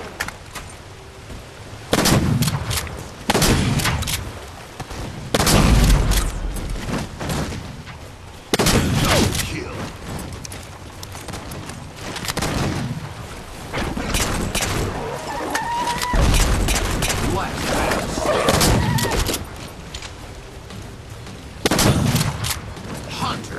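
Rapid bursts of gunfire from players in a Halo Flood match, loud and repeated in irregular volleys with short pauses, and a voice speaking faintly underneath.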